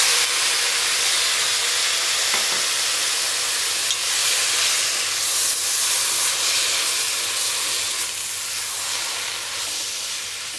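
Jackfruit seeds hitting a pan of sautéed ground paste for a jackfruit-seed thoran, a steady loud steamy hiss and sizzle running throughout, close by, with no voices.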